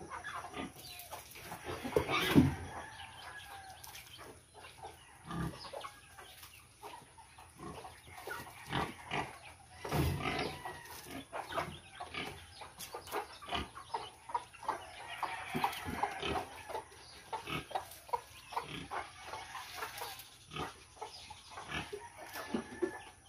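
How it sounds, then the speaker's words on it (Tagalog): Native chickens being fed cluck and squawk in scattered bursts over a steady background hiss, with pig-like grunts and farmyard noise mixed in; no one speaks. "Yan, napakain na ni Junjun yung nialaga nating manok"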